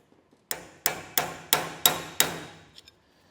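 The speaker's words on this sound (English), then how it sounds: "take a hammer and lightly tap it this way to get it removed" Six sharp metallic taps of a hammer on a trailer idler hub, struck at a steady, even pace, each ringing briefly before the next, close and fairly loud with no talk.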